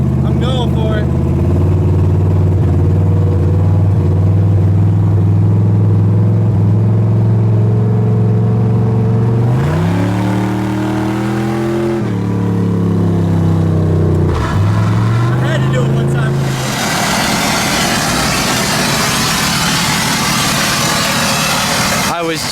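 An LS-swapped nitrous Chevy Nova drives up the interstate, its engine droning loudly with rising and falling revs through gear changes, then giving way to heavy road and wind roar.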